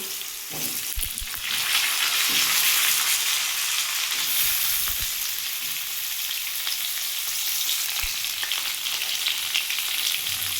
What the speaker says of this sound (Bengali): আমি এবার এর মধ্যে আলুটা আর টমেটোটাও দিয়ে একটু ভেজে নেব